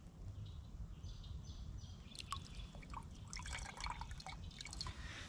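Water drips and trickles from a wrung-out cloth into a container outdoors, with scattered close splashes and drips over a steady low background rumble.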